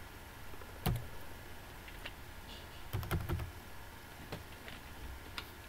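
Keys tapped on a computer keyboard in scattered short clusters, quiet and close, with sharper clicks standing out and no talking.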